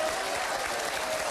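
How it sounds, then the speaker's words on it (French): A TV game-show studio audience bursts into dense, sustained applause, a loud even wash of clapping throughout. "Je vous demande d'applaudir Dominique Farrugia."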